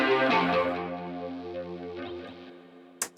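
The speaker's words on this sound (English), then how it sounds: "Yeah, just like a ton of chorus and phaser." Sustained synth preset made in Transit 2 and drenched in chorus and phaser with OTT compression, a rich swirling chord that slowly fades before a short sharp hit at the end.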